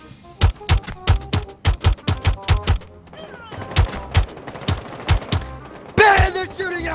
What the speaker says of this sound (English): Baiten, they're shooting at me!